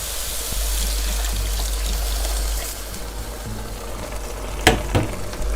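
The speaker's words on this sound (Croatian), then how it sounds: "Odmah nakon minut, pošto je počelo, vidite dole da hvata, dolijevamo vodu." Water poured into a hot frying pan of cooking eggplant gives a steady sizzling, bubbling rush, followed by a couple of sharp clinks of a utensil against the pan.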